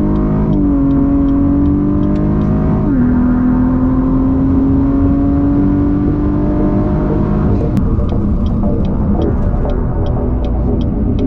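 Tuned turbocharged car accelerating hard with extra boost pressure, its engine droning and rising steadily in pitch through a gear change, loud and close from inside the cabin, with faint ticking and no talk.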